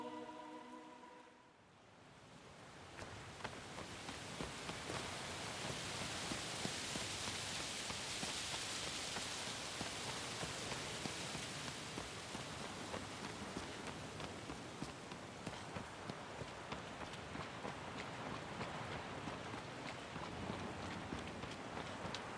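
Steady rain in the Shadow of the Colossus video game, a dense broadband hiss that holds loud and even throughout, with a faint rhythmic patter and no talk over it.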